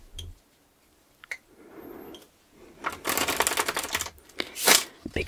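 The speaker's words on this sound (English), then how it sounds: "I need to shuffle these cards some more." Tarot cards are shuffled in quick crisp bursts of riffling and flicking, with short pauses between, close by.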